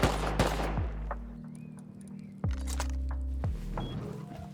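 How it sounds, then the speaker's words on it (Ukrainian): Sharp bursts of gunfire in the game Rust, a few shots early then another cluster, over a steady mechanical hum with faint electronic tones. "По мені стріляє."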